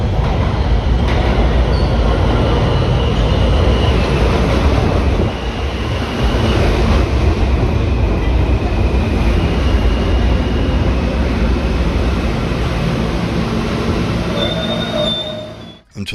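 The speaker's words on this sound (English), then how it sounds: "Then it's back on the subway." A New York City subway train rides along the tracks, a loud continuous rumble with wheels squealing throughout, close and steady with no talking.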